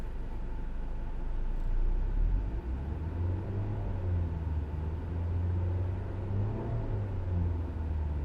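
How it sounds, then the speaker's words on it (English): A car engine at idle is given gas while hooked to a Thinkcar Thinkscan 662 scan tool, producing a steady low rumble that swells slightly, close and continuous with no talk. "I'm gonna go ahead and give it some gas here."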